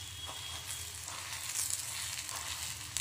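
Butter sizzles around a besan uttapam on a hot pan, giving a continuous bright hiss with small crackles and no one speaking.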